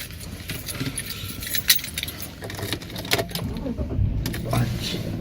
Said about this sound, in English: Just getting my keys.